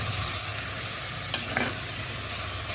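Papaitan being sautéed in a pan, with a steady broadband sizzle and a few brief stirring clinks, all close and moderately loud with no talking.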